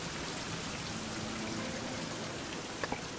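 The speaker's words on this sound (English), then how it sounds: "Oh, it's raining finally!" Rain falling outdoors at a survival camp, a steady soft hiss of drops on surfaces with a couple of louder nearby drips near the end, no voices.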